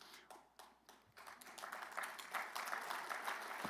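Audience applause at a conference event, a dense, steady wash of clapping that builds and holds loud throughout, with a few sharper individual claps early on.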